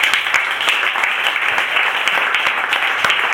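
A church congregation claps together in sustained, dense applause, loud and steady throughout with no clear voices.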